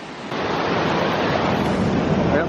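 Water rushes steadily through a forest waterfall, loud, close and unbroken for the whole stretch, with no voices over it.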